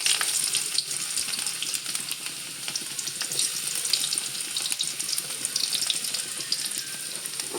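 Ginger and garlic frying in a pan, a continuous dense close-up sizzle and crackle that holds steady throughout, with no voices.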